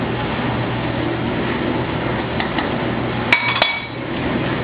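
Spoon stirring bay leaves, oregano and thyme into a big pot of charro beans, with a steady kitchen background and two quick metallic clinks against the pot near the end.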